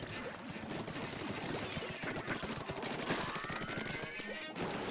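Rapid ink weapon fire in Splatoon 2, a fast-firing gun a little weaker than the standard Splattershot, crackling in a dense, steady stream of quick shots with other game sounds mixed in.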